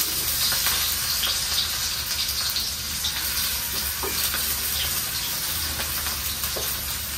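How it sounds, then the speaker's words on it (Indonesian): Onion and ginger sauté in hot oil with a continuous, even sizzle and a few soft stirring scrapes, close up and uninterrupted by talk. "Tumis bahan ni sampai dia garing dan naik bau."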